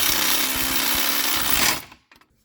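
A power drill whirs loudly for almost two seconds, driving screws into an RV slide system, then cuts off abruptly with a few faint clicks after.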